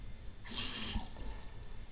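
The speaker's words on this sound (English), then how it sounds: "take this, and fill it up with some water." Water poured briefly into a container to about a quarter full, a short close splashing burst lasting under a second in a quiet room.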